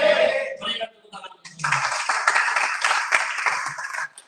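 Church congregation applauding during a sermon, a burst of dense clapping that swells after a preacher's brief spoken words and continues steadily before cutting off.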